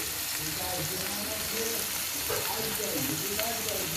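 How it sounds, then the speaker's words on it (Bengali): Spices sizzle steadily in hot oil in a pan for chicken bhuna khichuri, a Bengali dish, with a continuous crackling fry and faint clinks of stirring, and a voice speaking over it. "খিচুড়িটার জন্য যে মশলাগুলো আমি ভেজে নিচ্ছি"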